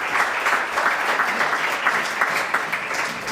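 Applause from a large audience at a tribute event for a departing charity chief executive, a dense, steady wash of many hands clapping close and fairly loud throughout, with no voices over it.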